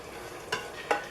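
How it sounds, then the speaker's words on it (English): Vegetarian chili cooks on high sauté in a Cosori Instant Pot, giving a faint, steady sizzle and bubble broken by two short, sharper stirring scrapes. "And it is on high saute right at the moment. So it is boiling and bubbling."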